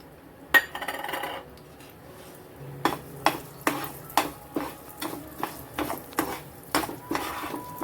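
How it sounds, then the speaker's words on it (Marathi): Makhana (fox nuts) roasting in ghee in a pan, stirred in a steady series of scraping, clinking strokes after one sharp knock, close and fairly loud with no voices. "थोडस आपण तूप घालूया आणि आपण हे भाजून घेऊया याच्यातच"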